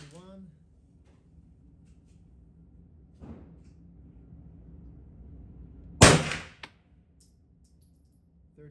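A single sharp, loud report from a Glock 34 full-size 9mm pistol firing flat-point ammunition outdoors, standing alone after a quiet stretch, with a fainter pop earlier and brief talk at the start.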